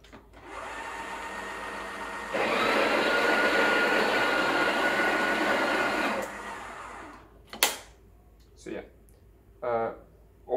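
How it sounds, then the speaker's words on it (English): A Breville Oracle BES980 espresso machine's built-in grinder purges coffee beans with a loud, close, steady whir lasting about seven seconds. It grows louder partway through, then cuts out, followed by a few short bursts of talking. "So I'm gonna grind for about two seconds and get rid of that"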